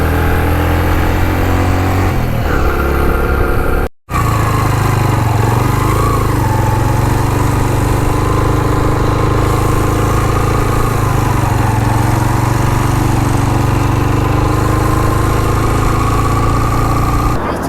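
A parked motorbike idles steadily near a lake in the Gilgit Baltistan mountains after a ride via Naran, Kaghan and Babusar Top; the loud, close, even engine drone holds for the whole stretch, broken only by one brief dropout, with no voices.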